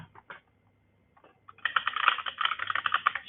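Typing a Linux terminal command on a computer keyboard, a few light keystrokes followed by a dense, rapid burst of close clicking keys, with no voices.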